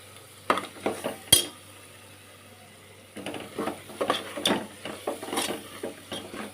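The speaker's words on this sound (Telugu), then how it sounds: "ఇది కొంచెం పచ్చివాసన పోయేదాకా వేపుతాం" Chili powder fries in oil for a goat tripe tomato curry, with soft sizzling beneath irregular spoon scrapes and clinks against the pan. One sharp metallic knock stands out early, followed by a denser run of stirring strokes.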